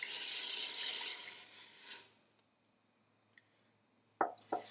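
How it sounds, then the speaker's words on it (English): Milk is poured into a pan over butter, onions and celery, giving a loud steady splashing stream that tapers off, followed by a quiet pause and a few soft clinks and splashes. "And then we're gonna add 1 3/4 cup of milk."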